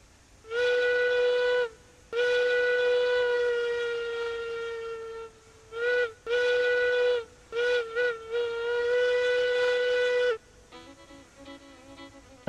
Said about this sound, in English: Let's hear that whistle.